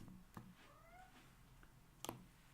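A feral cat meows in a quiet room, a short rising-falling cry around the middle, with a few soft knocks and clicks before and after.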